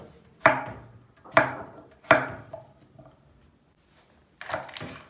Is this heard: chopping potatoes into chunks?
yes